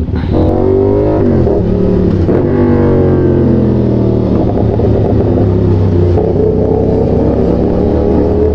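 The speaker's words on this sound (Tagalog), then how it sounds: "Makikipaglaro muna kami dito sa traffic." Riding a CFMOTO 675SR-R sportsbike through road traffic, a steady loud engine drone and rumble with shifting pitch as the motorcycle moves close among vehicles.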